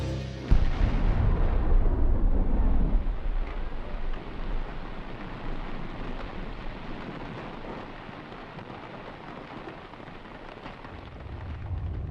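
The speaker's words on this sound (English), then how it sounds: "they plant tons of dynamite to blast a bed for the pipe beneath the river's bottom" A deep, booming underwater dynamite blast in a river bed erupts, then a long rushing, roaring wash of water and debris slowly fades; no voices.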